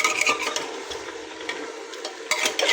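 Bihari-style beef being stirred and fried in a pan, giving a continuous close scraping and sizzling with a few sharper clatters of utensil against metal, and no talk.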